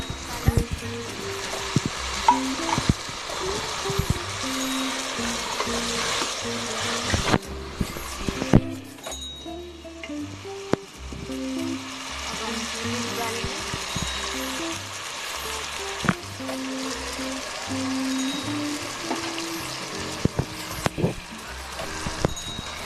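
Ginger garlic paste fries in a pan for a fish curry, giving a steady crackling sizzle with occasional clatters and stirring, heard alone without talk.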